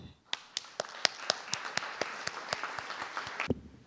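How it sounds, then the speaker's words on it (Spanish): Sparse, distinct handclaps from an audience greeting a consultant at a local-government forum, individual claps spaced out and fairly close, stopping abruptly near the end. "por quien quiero pedir un fuerte aplauso"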